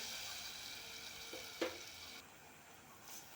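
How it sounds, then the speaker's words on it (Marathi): A hot tempering for pithla, a thin gram-flour dish, sizzles and fries quietly. Hot water poured into the pan sets off a brief sharp hiss, then a softer, steady crackle continues without talk. "ते गरम पाणी आपण ह्या फोडणीमध्ये ओतून घेणार आहोत"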